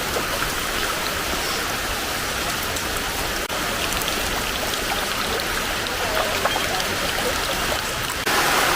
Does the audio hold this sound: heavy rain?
yes